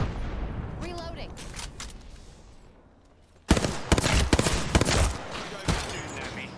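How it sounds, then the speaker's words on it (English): Explosive launcher bursts from Fuse's Knuckle Cluster in Apex Legends: a sudden loud blast followed by a rapid flurry of cracking detonations and pops, layered with game ambience. "Stand back, knuckle clusters firing."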